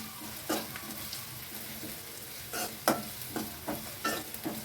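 Onions sauté in oil in a pan for a drumstick poriyal, a soft, steady sizzle broken by several sharp scraping stirs of a spoon against the pan, close and fairly quiet with no speech.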